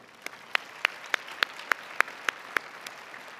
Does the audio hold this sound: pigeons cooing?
no